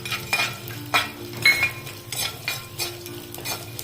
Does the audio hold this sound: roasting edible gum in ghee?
yes